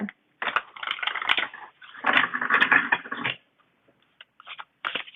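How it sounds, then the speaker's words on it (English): A tarot deck is shuffled by hand in close, crisp bursts of riffling and rustling card noise, two longer runs separated by brief pauses, then short scattered flicks. "let's go ahead and shuffle these cards"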